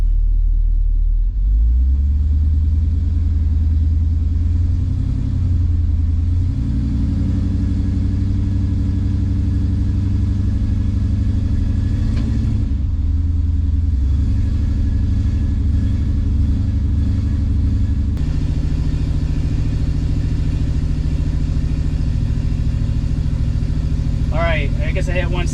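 A car with an 8L90 automatic transmission, held in drive, is power braked so its engine revs and rumbles steadily at close range, the pitch climbing in stages for about twenty seconds.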